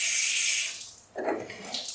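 Water poured through a 1962 AMC Rambler engine gushes out, a loud hissing rush that stops abruptly and gives way to a softer splashing trickle.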